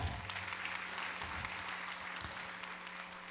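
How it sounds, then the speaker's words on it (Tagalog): An audience at a press corps awards event applauding, a short burst of clapping from many hands in a hall that fades over a few seconds, moderately distant. "Palakpak naman natin dyan."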